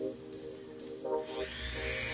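A Dremel rotary tool whines in short high-pitched bursts while shaping and cleaning up a prototype craw fishing jig, the tone shifting as it bites into the piece.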